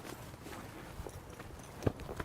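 Horse hooves clip-clop on the ground at a walking pace, light irregular strikes with one sharper, louder hoof fall near the end, close by and mostly alone.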